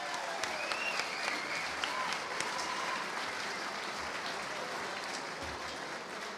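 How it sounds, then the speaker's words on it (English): An audience at the 2023 USBWA basketball writers' awards banquet gives a sustained round of applause for the sponsors. The dense, even clapping fills the room for several seconds with no talking over it. "Please give our sponsors and underwriters a deserved round of applause."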